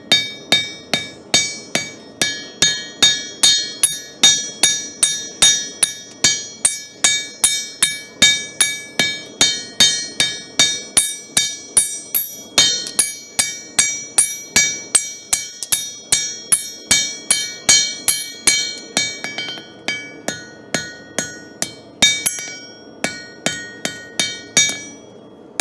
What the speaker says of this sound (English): So let's just forge that on this side.